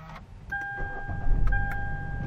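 A Hyundai Elantra with keyless push-button start coming to life: a chime sounds, then the starter cranks and the engine catches into a steady low idle, heard from close by with no one speaking.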